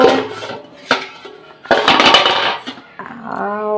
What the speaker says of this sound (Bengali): এখন আমি ঢাকাটা খুলে নিচ্ছি